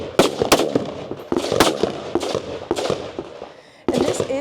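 A rifle fires from a standing freestyle position at an outdoor shooting stage of a competition in Poland, giving a series of sharp, loud cracks at uneven intervals, each trailing into an echoing decay.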